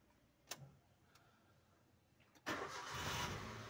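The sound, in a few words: Maruti Wagon R car engine starting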